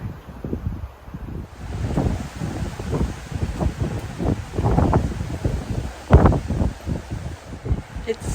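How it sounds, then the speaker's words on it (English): Strong wind gusts buffet a microphone at a lakeside camp in South Georgia, coming as repeated rumbling bursts that swell and fade over several seconds. "so windy. It's getting windier."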